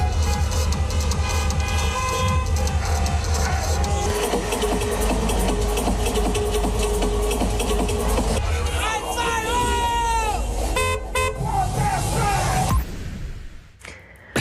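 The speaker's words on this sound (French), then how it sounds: "Ils écoutent donc la musique et expriment leur euphorie par quelques klaxons." Car horns honk in short bursts over loud dance music and crowd hubbub at a drive-in disco set up in a parking lot, with about 250 cars and their occupants listening from inside their vehicles.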